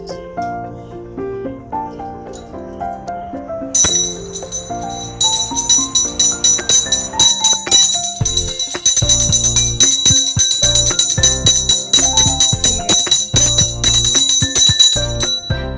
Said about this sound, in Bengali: আচ্ছা, এবার ঘন্টাটা একটু বাজিয়ে দাও।